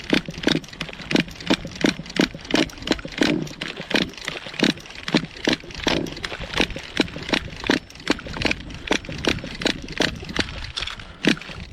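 A HoBao Hyper VS2 nitro RC car engine that fails to start, heard as a close, loud train of rapid rhythmic pull-start bursts repeating evenly for about twelve seconds without catching into a running idle.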